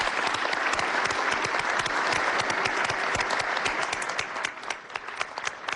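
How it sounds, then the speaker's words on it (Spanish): A crowd applauds President Evo Morales, Bolivia's head of state, at a conference: dense, sustained clapping from many hands fills the whole stretch, steady and loud before easing slightly near the end. "uma salva de palmas para o presidente Evo Morales"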